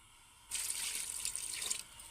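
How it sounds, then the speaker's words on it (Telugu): Water is poured into a pan of cut jaggery on a stove to help it melt for semiya payasam, a steady splashing pour that starts abruptly and runs about a second and a half before easing off. "కొంచెం బెల్లం కరగడానికి కొంచెం వాటర్ పోస్తే చాలు"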